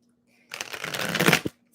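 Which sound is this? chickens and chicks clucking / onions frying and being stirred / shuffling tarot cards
shuffling tarot cards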